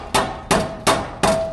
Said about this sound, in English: I just got this little kind of crease in here that I'm hammering into this